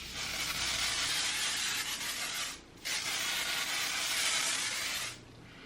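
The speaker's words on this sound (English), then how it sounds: "I like to spray my hair with the Moroccan oil spray as well." Two long, steady hissing sprays from an aerosol can of Moroccan oil hair spray, close by, separated by a short pause.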